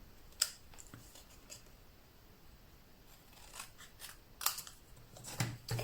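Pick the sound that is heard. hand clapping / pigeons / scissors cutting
scissors cutting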